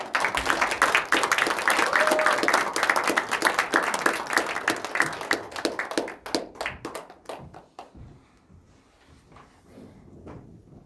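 Warm applause from a church congregation rolls on loudly, then thins into scattered individual claps before fading to near quiet.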